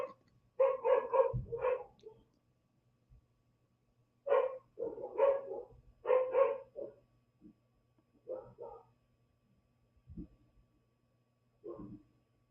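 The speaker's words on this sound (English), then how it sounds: "That's my dog barking at me." A dog barks in short bursts of two to four barks, separated by pauses, fairly close and moderately loud against a quiet background with a low steady hum.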